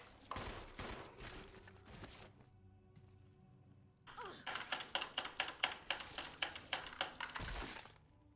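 Gunfire in a co-op horror video game, a sharp burst of shots, a lull, then a rapid regular string of about a dozen shots, close and crisp.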